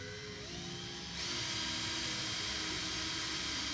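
A small power drill with a roughly 2.5 mm bit whines steadily as it drills into a B.C. Rich guitar neck, its pitch rising as it bites in, a continuous high buzzing with no voices.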